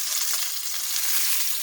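Rabbit pieces brown in butter and oil in a pan, giving a steady, even, close hiss of frying with no voices.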